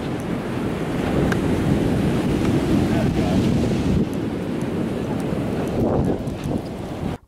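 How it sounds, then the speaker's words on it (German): Waves break and wash up on the beach below the Red Cliff on Sylt, a loud continuous roar of surf mixed with gusting wind buffeting the microphone, cutting off abruptly at the end. "ich könnte den ganzen Tag Wellen beim Brechen zusehen"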